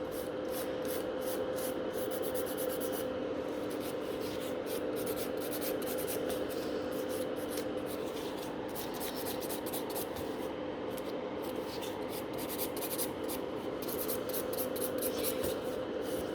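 A nail file scrapes fiber gel over natural nails in quick, repeated back-and-forth strokes, a dry rasping rhythm that runs steadily close to the listener with brief pauses between passes.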